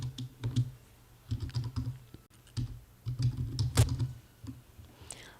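Typing on a computer keyboard while filling in an online form, with short clustered bursts of close, crisp key clicks separated by brief pauses and no talking.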